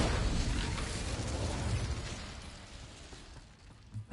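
An Incendio fire spell from the video game Hogwarts Mystery erupts in a loud, roaring blast that starts at full force, then slowly fades over a few seconds.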